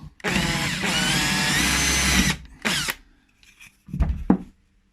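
A power drill with an 8mm bit whirs loudly for about two seconds, then gives shorter bursts with brief pauses between them, close by, while fitting a micro tilt kit.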